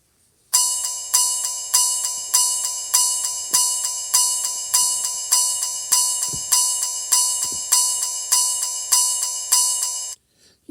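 Clunker's sound from the Sprunki video game is a bright, bell-like tonal loop with a clear steady pulse of repeated notes, heard alone and fairly loud for about ten seconds.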